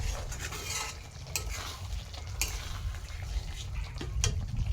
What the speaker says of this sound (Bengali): এদিকে চিকেনটা কষানো হয়ে গেছে